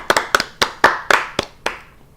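Hands clap about eight times in an uneven, lively rhythm, loud and close, with no other sound around them.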